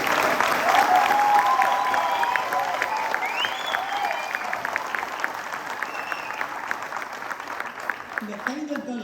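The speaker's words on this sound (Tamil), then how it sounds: "நீங்க நல்லா ரசிக்கிறீங்க, ரொம்ப நல்லா கைதட்டுறீங்க" An audience at a Tamil New Year 2025 speech event applauds: loud, dense clapping peaks at the start and then slowly tapers off over several seconds.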